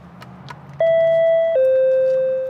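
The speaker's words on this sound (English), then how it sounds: "installing these new security doorbells to all their junior highs" A clear electronic two-tone chime from a school security doorbell rings once, a higher note followed by a lower sustained one, loud and close after faint background rustling.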